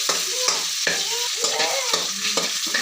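Bottle gourd curry ingredients sauté in a pan, with steady sizzling under a run of repeated stirring and scraping strokes, close and fairly loud, with no talking.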